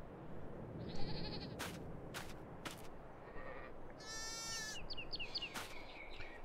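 Goats on a farm in Farming Simulator 22 bleat several times, nasal wavering calls overlapping one another at moderate distance, mixed with a few sharp clicks and soft rustling ambience.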